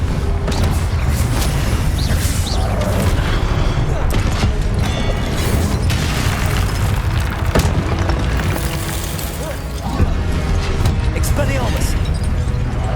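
Confringo spell explosions in Hogwarts Legacy during a loud, dense combat sequence, repeated booming blasts and crashes over continuous rumbling, with spoken voices throughout.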